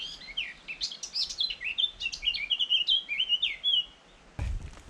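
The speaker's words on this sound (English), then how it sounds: "So there's a bird in that tree" A bird sings from a tree on a cliff-top wild camping spot, a clear run of varied bright chirps and warbling phrases at moderate distance, ending with a brief low rumbling bump, no talk.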